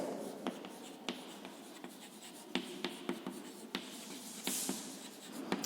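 A teacher writes notes on a board during an English lesson, producing soft, scattered taps and scratchy strokes at a faint, steady level with no speech.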